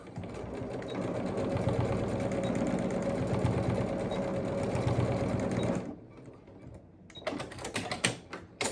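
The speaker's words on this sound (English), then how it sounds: "Now I'm going to sew this with about 1/8 of an inch, maybe even less than that, 1/16, just enough to hold that elastic in place." A sewing machine stitches a narrow 1/8-inch seam to hold elastic in place on a fabric headband, running as a steady continuous whir for about six seconds, then stopping, followed by a few short bursts of renewed stitching.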